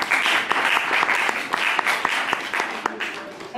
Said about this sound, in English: So let's clap for Rebecca